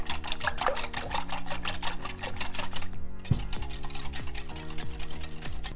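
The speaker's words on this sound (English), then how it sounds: "you just want to whisk them all together." Egg and vanilla extract whisked in a bowl for Liberian shortbread make rapid, even ticking clinks against the bowl, with a brief pause midway before the quick rhythm resumes, close and fairly loud.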